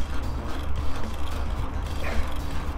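A worn, used Mongoose XR Pro mountain bike creaks and grinds through its drivetrain, a continuous close rumbling mechanical rattle with faint ratcheting clicks, loud and without talk.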